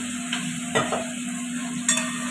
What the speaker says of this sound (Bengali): এবার এটা কষা হতে থাক।